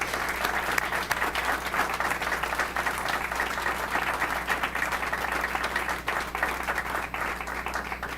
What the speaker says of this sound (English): I think we should give her a huge round of applause for her commitment